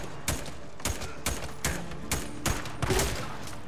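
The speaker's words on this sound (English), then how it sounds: "How you survive all these shots?" Gunfire in the video game Days Gone during a fight inside a church: six sharp, loud shots spaced roughly half a second apart, each with a short ringing tail, and no talking.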